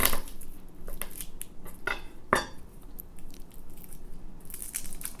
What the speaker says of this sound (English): I cut off the stem and squish it with my knife, and then the skin should come off pretty easily.